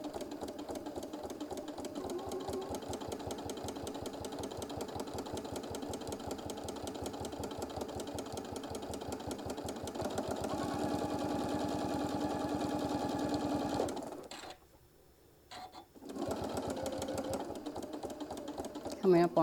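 Sewing machine stitching along fabric edges and around a curve, a steady rapid mechanical chatter that runs loud and continuous, then briefly stops and starts again near the end.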